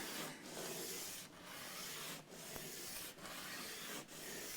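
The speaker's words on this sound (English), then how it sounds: "Belt sander. So I could just put this on and gently work it down." Continuous abrasive rasping of a belt sander on wood, broken by brief regular pauses as the tool is lifted and pressed again.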